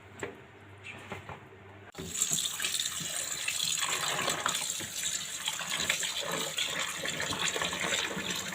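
Cut potatoes for a baked potato and meat tray are rinsed under a running kitchen tap, the water starting abruptly after a quiet moment and then gushing steadily into the sink with faint clatter of the pieces.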